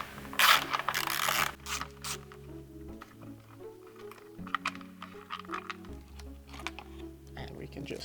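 Ratcheting clicks from loosening a 10 mm head bolt on the control arm cover of a Tesla Model 3/Y, in short close bursts with metallic clatter and low hum between them.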